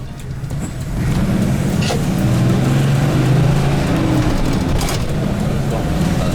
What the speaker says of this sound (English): So, let's catch a bus.